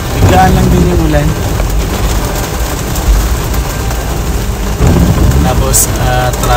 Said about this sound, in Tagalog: Biglaan lang din yung ulan.